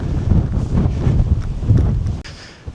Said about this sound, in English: it's getting pretty windy up here